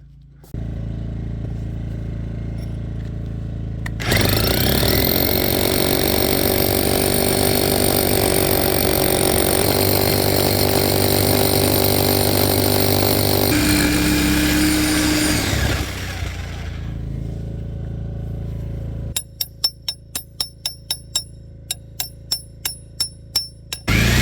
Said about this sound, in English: Always try to keep your hammer drill as level as possible so you drill a straight hole.